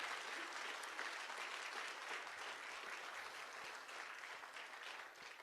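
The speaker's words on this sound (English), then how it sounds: "One more big round of applause for all of you" A crowd at an NDP election platform event gives candidates and volunteers a big round of applause: continuous, dense clapping from many people, steady and fairly distant, fading slightly at the end.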